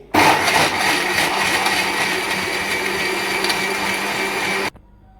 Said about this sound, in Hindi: इन सब चीज़ों को हम अच्छे से ब्लेंड कर लेंगे।